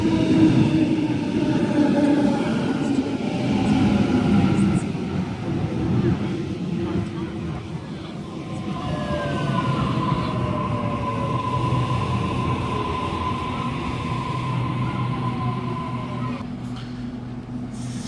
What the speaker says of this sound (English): Series 1 Waratah A23 now departing platform number 2 Hornsby service.